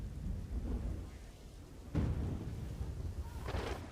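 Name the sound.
heavy rain in Dwarka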